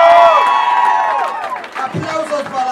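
An audience at a birthday awards party cheers and applauds a nominee, a loud burst of crowd noise and whoops that fades down into scattered clapping and voices.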